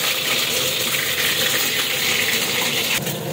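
A steady, loud gush of tap water pours close by for washing fish, filling the clip with continuous splashing, with no talking.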